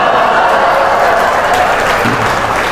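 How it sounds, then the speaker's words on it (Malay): Dense, steady hand clapping from a crowd of people fills the whole stretch, loud and continuous with no individual claps standing apart. "Tegamak kau tepuk tangan."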